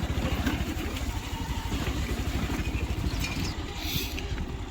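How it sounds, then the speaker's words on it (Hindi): A motorcycle rides along a rural road toward farm fields, its engine making a steady, close, continuous drone that stays even throughout, with no voices over it. "ये चल रहे हैं बाइक से ही"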